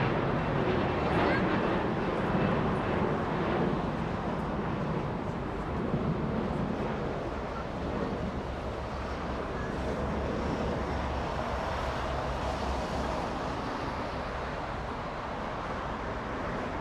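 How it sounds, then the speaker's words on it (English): Lufthansa airliner taxiing to the gate at Los Angeles International Airport, a steady broad jet engine rumble and whine at moderate distance, continuous with background airport noise and occasional voices. "And there goes Lufthansa to the gate."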